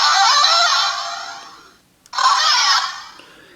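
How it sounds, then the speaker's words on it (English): Toy Ringo Lock Seed from a Kamen Rider Malus and Kamuro set makes two bright electronic bursts as its lock cracks open and then shut, each burst fading, with a short gap between, close and loud with no talk. "this one also has the crack opening and closing sounds"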